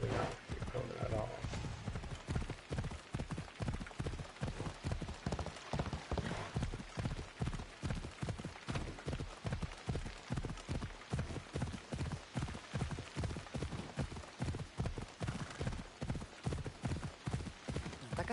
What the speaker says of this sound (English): The ever appearing horse.